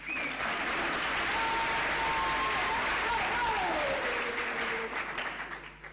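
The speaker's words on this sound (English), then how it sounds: "Clap your hands." Steady, full applause from a graduation ceremony audience honouring a choir, broad close clapping that holds loud and even before easing slightly at the end, with faint voices underneath.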